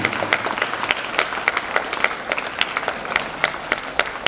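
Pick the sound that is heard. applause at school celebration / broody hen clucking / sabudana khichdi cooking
applause at school celebration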